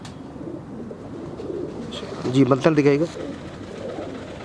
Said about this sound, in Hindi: वाकई काफ़ी एजड कबूतर है जी।